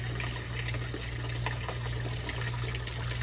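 Water runs steadily from a tap at an outdoor garden wash station while hands are washed after harvesting salad, a continuous splashing gush over a low steady hum, close and fairly loud.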